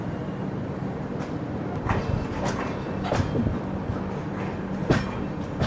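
Kongu Express passenger train running steadily while joining the main line, a continuous rumble of wheels and carriages with faint rhythmic clicks and rattles, no voices.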